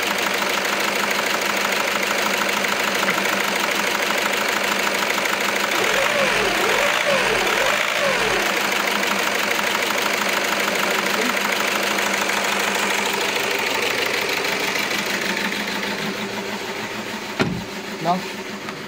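A VW Golf 6 TDI diesel engine with a faulty injector runs rough and loud close by, its pitch rising and falling through a few throttle blips before the idle fades.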